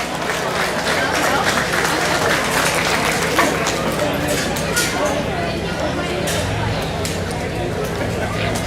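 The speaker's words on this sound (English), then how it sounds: "Let's give each one of those exhibitors a good round of applause" Steady applause and crowd noise from an audience at a county fair junior market hog show, a dense continuous wash of clapping and murmur filling the whole stretch without a break.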